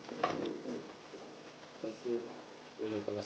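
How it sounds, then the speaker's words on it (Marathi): A Shirazi pigeon chick gives faint, low cooing calls in short bursts, with soft rustling between them and a person speaking nearby. "कबूतर बच्चा आहे शिराजी बच्चा आहे"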